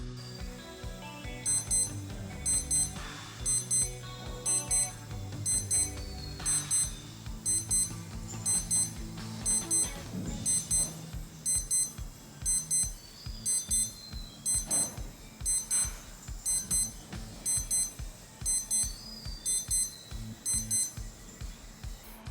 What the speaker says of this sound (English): Alarm, not exactly an air raid siren, but definitely loud enough to grab your attention.